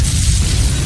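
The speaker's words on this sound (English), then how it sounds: "your house explodes" A loud, roaring blast of noise with heavy low rumble, like a house exploding close by, filling the whole moment.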